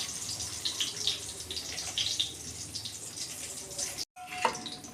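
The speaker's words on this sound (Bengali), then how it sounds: "এটা ভিজিয়ে রেখেছিলাম, আমি এবার ছেঁকে নিচ্ছি।" Water drains steadily from a soaked ingredient being strained, a continuous splashing trickle that breaks off briefly near the end and then resumes with a small clink.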